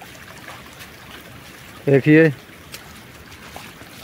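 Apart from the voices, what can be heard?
rainwater flowing and dripping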